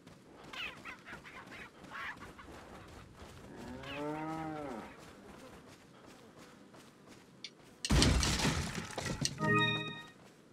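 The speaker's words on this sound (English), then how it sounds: "That is a cow." A cow in Resident Evil 4 lets out one drawn-out low moo midway, followed by sudden loud crashing game sounds and brief bright tones, all without speech.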